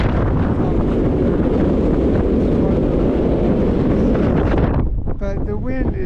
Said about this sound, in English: But the wind is just crazy